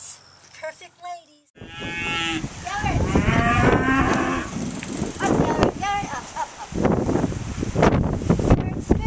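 Texas Longhorn cattle moo loudly and repeatedly, with long, drawn-out calls overlapping one another close to the microphone, mixed with wind buffeting and some outdoor noise.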